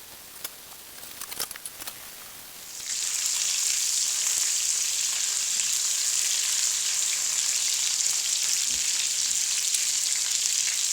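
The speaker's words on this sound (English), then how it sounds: "so we don't have to sit here and watch them sizzle" A short quiet stretch, then pieces of chicken for coq au vin hit the hot pan and a loud, steady hissing sizzle takes over and continues evenly.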